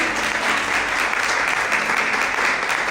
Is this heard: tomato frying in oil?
no